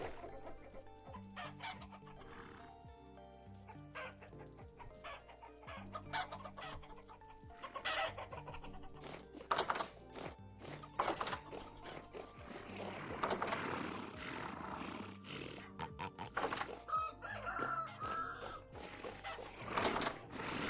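Rooster crowing and hens clucking in a farming video game, mixed with busy game music and effects over about twenty seconds, fairly loud and continuous with no talking.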